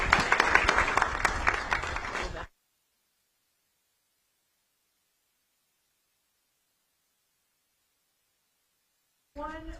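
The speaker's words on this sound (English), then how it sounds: "Let's give one more round of applause to the great Governor Kristi Noem." A crowd at a live public event applauds the South Dakota governor, loud steady clapping with voices mixed in, then it cuts off abruptly and near silence follows before a short return of sound at the end.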